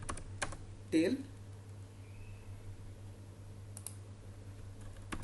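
Someone types Python code on a computer keyboard, a few quick clicking keystrokes near the start followed by sparse, light taps over a steady low hum, faint and close.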